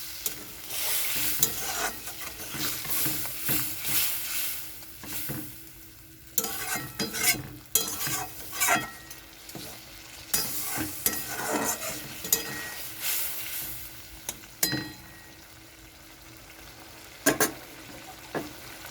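Tomato prawn curry sizzles in a pan after a little water goes in, while a spoon stirs it. Scrapes and clinks come in irregular bursts over a steady frying hiss, close and moderately quiet.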